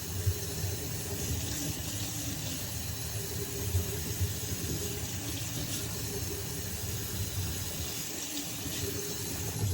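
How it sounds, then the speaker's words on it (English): A kitchen tap runs steadily while meal-kit ingredients for barbacoa steak tacos are rinsed under it, producing a continuous hiss of water for about ten seconds with no one speaking. "So we're gonna just rinse all our stuff off."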